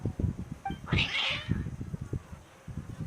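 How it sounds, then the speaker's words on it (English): Agitated cats in the Genshin Impact video game let out a loud, strained meow over a steady background music beat, with a few softer mews around it. "Your cats seem pretty worked up."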